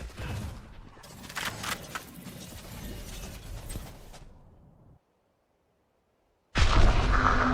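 A grenade explodes in a tactical shooter game as a loud, sudden broadband blast that cuts in after a brief silence. Busy gunfire and game noise come before it.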